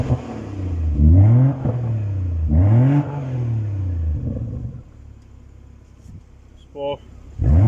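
Modified exhaust on a BMW M140i in Comfort mode, revved twice in strong rising-and-falling blips, then a third rev that settles to a low idle, with a brief click near the end.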